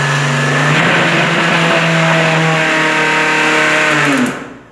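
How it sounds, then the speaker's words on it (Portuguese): A blender motor whirs at a steady, loud pitch for several seconds while churning milk into homemade butter, then cuts off and winds down at the end. "eu tô batendo no liquidificador mesmo"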